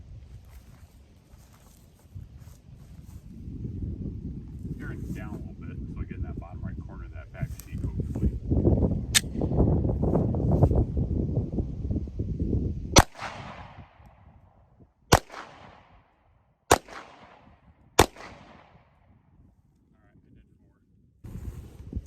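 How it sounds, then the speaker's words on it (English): Five sharp, loud 9mm hollow point gunshots ring out outdoors during wall-penetration tests, each a sudden crack with a short decaying echo, spaced a couple of seconds apart, after a stretch of rumbling wind and faint activity. "I'm going to do 2 more rounds of 9mm hollow point just to see what else comes of it"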